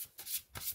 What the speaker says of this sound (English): It's quite a big deck. It shuffles beautifully.